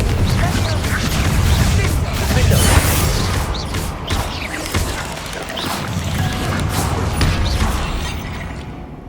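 Confringo blasting spell in the Hogwarts Legacy video game, loud booming crashes and whooshes in quick succession amid in-game speech and combat noise.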